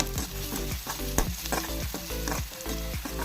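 Onions and crushed chili fry in a pan for a Kerala-style green bean mezhukkupuratti, with a steady close sizzle broken by repeated stirring scrapes and clanks of the spoon against the pan.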